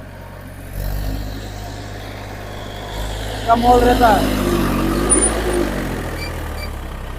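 A loaded Massey 245 tractor engine rumbles low and steady in a power test, a nearby idling drone beneath people talking, with a brief rise in intensity midway.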